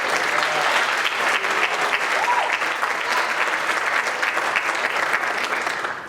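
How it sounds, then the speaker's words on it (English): An audience at a high school jazz band winter concert claps steadily for several seconds, a dense, even burst of applause that tapers slightly at the end. "I just want to give them a round of applause"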